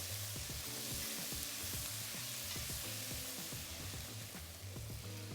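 Onions sautéing in a Le Creuset Signature Dutch oven for braised short ribs, giving a continuous dense sizzle with a low steady hum running underneath, no voices.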